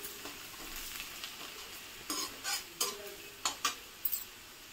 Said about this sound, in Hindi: लहसुन को हम थोड़ा सा गोल्डन ब्राउन भून लेंगे